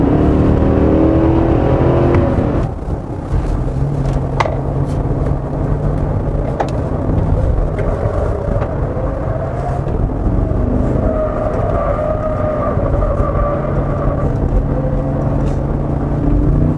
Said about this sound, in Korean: 이 엔진 소리가 좀 되게 듣기가 좋을 수가 있어요